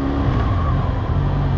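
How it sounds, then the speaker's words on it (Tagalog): Benelli 502C two-cylinder big bike engine revving on city streets at BGC, a loud, steady, close droning roar that holds high revs throughout. "Two-cylinder, pero ang tunog niya? Tunog inline 4."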